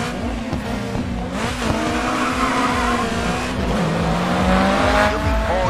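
Race cars in GRID 2 roar through a 3-lap race on Paris streets, engines droning loud and steady with rising and falling revs and shifting gear tones throughout.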